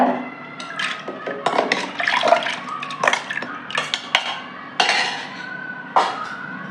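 Soaked dal being tipped into water in a pressure cooker, with scattered metallic clinks and light splashes coming in short bursts, close by.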